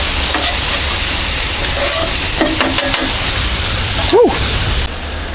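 Chopped steak sizzling loudly on a Blackstone griddle for a cheesesteak, a steady hiss with scraping and stirring of a spatula against the metal, close and continuous.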